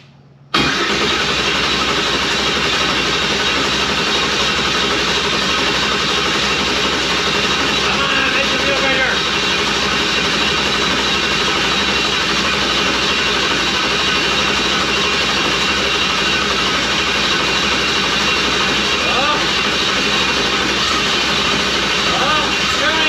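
A car engine cranks, catches and starts, then keeps running loud and close at a steady idle, with voices talking over it.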